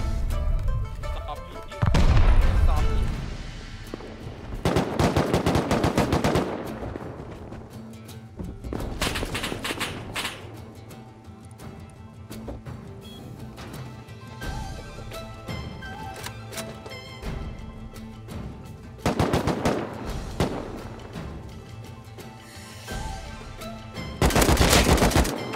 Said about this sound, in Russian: Откуда он стреляет?